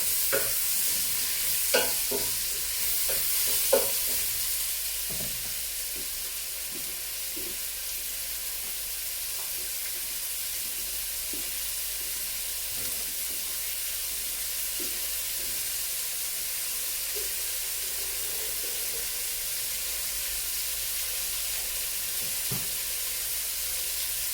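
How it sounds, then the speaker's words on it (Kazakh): Pumpkin fries in a pan with salt and water, giving a steady, close sizzle with a few scraping stirs near the start and no talking. "асқабақты жақсылап қуырып жатырмыз"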